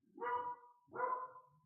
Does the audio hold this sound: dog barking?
yes